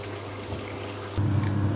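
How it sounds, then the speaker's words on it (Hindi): A Samsung fully automatic washing machine fills with water, giving a steady rushing wash of sound over a low hum; near the end a deeper, louder churning takes over. "देखिए इस मशीन को जितना पानी चाहिए उसने ले लिया है, अब इसने अपना काम स्टार्ट कर लिया है।"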